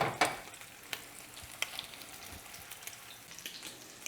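Shrimp cakes frying in a preheated pan give a steady close crackling sizzle with sharp pops and spits scattered throughout, with no voices.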